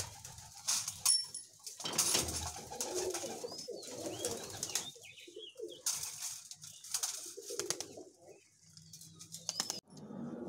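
Pigeons coo repeatedly in soft, throaty bursts at close range, with occasional wing flutters and light scuffling between calls and no voices.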